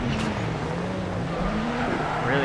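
A rally car in the game Dirt Rally brakes hard on the inside of a pass, with loud continuous engine roar and a rising tire squeal, close and sustained throughout.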